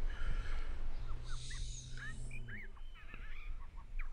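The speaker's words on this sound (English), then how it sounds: "here come the birds again" Birds shriek and squawk in short repeated calls while attacking in the video game Greyed Gone Rogue, over a dense, rumbling game soundtrack.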